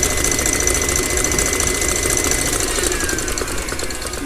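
Stand mixer whisking egg whites at high speed to firm them up, a steady, loud mechanical whir and rattle running without pause from start to finish, no voices.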